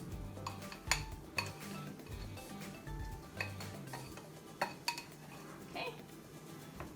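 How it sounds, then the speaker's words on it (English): Mashed beans being added to beef in a pan: scraping and clinking of a utensil against cookware with soft stirring and bumps throughout, close and moderately quiet over a steady kitchen background, no talk. "Now I'm going to add the beans that I mashed up."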